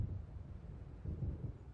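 Low rumbling thunder from an approaching storm in the video game Alan Wake Remastered, a steady deep roll that swells slightly, heard alone without voices.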